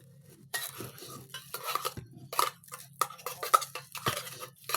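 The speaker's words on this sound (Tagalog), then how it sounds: "Paghaluin na natin yan." A utensil stirs and scrapes through a sushi mixture with canned tuna in a bowl, giving irregular close clinks and soft mushy scrapes in short bursts, fairly quiet.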